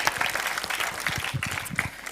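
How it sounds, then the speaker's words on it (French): Moderate applause from a conference audience after a panel on youth and space, with individual claps audible in a loose, uneven patter. "Donc, on peut applaudir le panel numéro 2."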